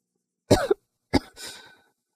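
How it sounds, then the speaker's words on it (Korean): Two short coughs, close and clear, separated by a brief pause, the second trailing into a rough exhale. "요즘은 이상하게 기침이 너무 심해."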